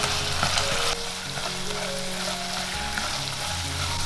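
Pork belly with scallion and ginger fries in a wok with soy sauce, oyster sauce, salt and rock sugar, a loud continuous sizzle and crackle close up, with a stirring scrape early on and no voices.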